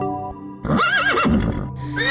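A cartoon unicorn, a horse, lets out one loud, wavering whinny at close range after a brief lead-in, with a faint trailing snort at the end.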